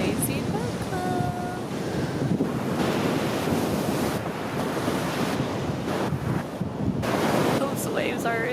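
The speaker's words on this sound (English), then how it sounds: "The waves are really crazy this morning." Ocean waves crashing on a beach at sunrise, a loud continuous roar of surf with heavy wind buffeting the microphone and surges rising and falling.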